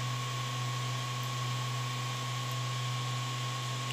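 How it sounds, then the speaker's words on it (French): Cooling fans of a Creality Ender 3 V2 3D printer with its original stock fans, a steady loud whirring hum with a constant low drone and broadband hiss running unbroken throughout, with no talking. "c'est le bruit de la machine avant l'amélioration des ventilateurs"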